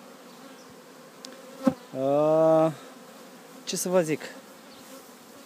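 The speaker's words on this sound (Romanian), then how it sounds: "Văd că Albina a ieșit foarte bine la cules." Honeybees buzz at the hives during acacia honey extraction, a steady hum with a few louder close passes, while a person speaks briefly.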